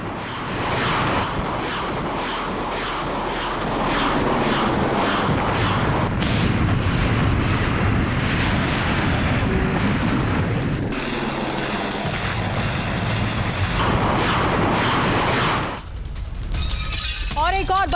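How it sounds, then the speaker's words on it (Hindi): Combat audio of a Russian attack helicopter striking Ukrainian positions: dense, continuous loud roar and rumble with crackling blasts and bursts throughout, briefly dipping near the end before resuming. "अटैकिंग हेलीकॉप्टर के जरिए कैसे रूस की तरफ से यूक्रेनी ठिकानों पर हमला किया गया।"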